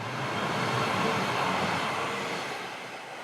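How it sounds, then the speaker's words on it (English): A metro train passes close by next to a station, giving a steady broadband rumble of rail noise that swells and then slowly fades over a few seconds. "Surprisingly, that was really, really quiet, the actual metro"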